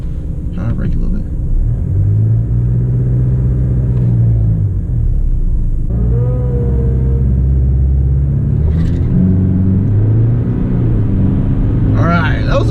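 A diesel Chevrolet Colorado pickup launches off the line at a quarter-mile drag strip, its engine rumbling loud and steady as it accelerates through rising gears, with a person talking over the engine noise from inside the cab.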